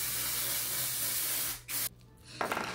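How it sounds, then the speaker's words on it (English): A spray bottle mists water onto braided hair in a long steady hiss, then two short sharp spritzes follow after a brief pause, close by. "and then just spray it on the braids"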